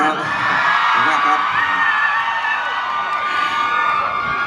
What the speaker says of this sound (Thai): ใครพร้อมจะส่งกำลังใจให้กับคุณโจอี้กรี๊ดหน่อยค่ะ